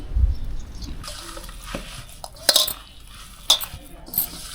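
Chicken pieces being hand-mixed in a bowl with chili powder, salt, ginger-garlic paste, garam masala and lemon juice for a pakora marinade, giving soft wet squelches and stirring with a few sharp clinks against the dish.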